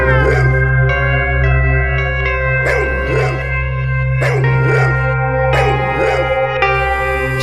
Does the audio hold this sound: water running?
no